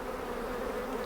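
Honey bees at an open hive, a dense, even buzzing hum heard close and moderately loud for a brief moment, no voices.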